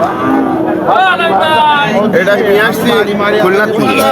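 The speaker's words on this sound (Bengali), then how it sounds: "সিন্দি জাতের গরু আপনারা দেখতে পাচ্ছেন" A Sindhi breed cow at a busy cattle market, lowing loudly and close by with drawn-out moos, while people talk over it.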